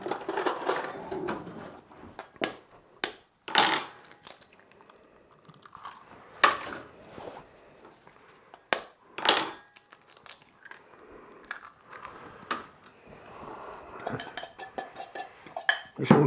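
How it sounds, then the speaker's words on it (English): Grated potato, spam, cheese and eggs for hash browns are stirred together in a bowl, giving irregular close clinks and scrapes of a utensil against the side with soft wet squelches between them and no talking. "This one gets mixed together, thoroughly mixed together"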